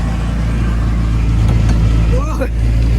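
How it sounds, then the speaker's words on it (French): A small amusement-park ride car driven by a lawnmower engine, its low, steady putter running loudly and close throughout, with a brief squeal near the end. "c'est un moteur de tondeuse"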